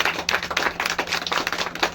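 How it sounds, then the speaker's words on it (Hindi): A small group claps at an anniversary party, the individual hand claps close and distinct in a quick uneven rhythm over a low steady hum. "तालियां जोर से भाई।"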